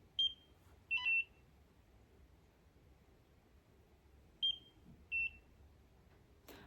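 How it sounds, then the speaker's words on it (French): A Nira Pro laser skin device emits short, high-pitched electronic beeps, two pairs spaced a few seconds apart, clear and isolated against a quiet background with no talking. "dès que ça bip, vous changez et vous passez à la zone d'à côté"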